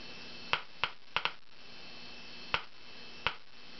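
A vacuum tube Geiger counter clicks through its speaker, giving about six sharp, irregularly spaced clicks over a faint steady hum.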